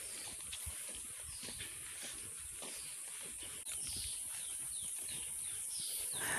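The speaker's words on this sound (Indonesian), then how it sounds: "Di sini sering sekali saya dengar suara-suara burung ya teman-teman, yang lagi berkicau di pagi hari ini." Birds chirp and call in a forest in the morning, faint and fairly distant over a soft rustling background, with a few clearer tweets in the later seconds; no voices.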